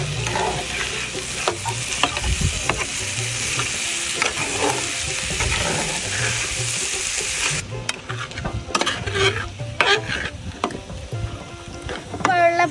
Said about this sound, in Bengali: পেঁয়াজ কুচি দিয়ে দিচ্ছি, মরিচ কুচি দিয়ে দিচ্ছি পরিমাণ মতো। এবার সুন্দর মতন ভেজে নেব।